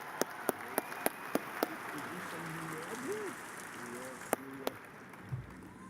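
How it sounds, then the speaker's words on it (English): Convention crowd at the 2016 Texas Democratic Convention applauding, a steady wash of clapping with a few sharp, louder claps standing out, while voices murmur underneath. "Please give him a big round of applause."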